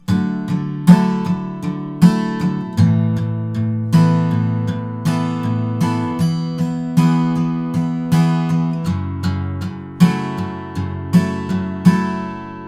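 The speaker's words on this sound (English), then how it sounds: "chord progression strumming pattern would sound like this." An acoustic guitar strums a song's chord progression in a steady rhythm, with chords ringing out and changing every couple of beats.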